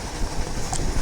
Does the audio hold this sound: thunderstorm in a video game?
no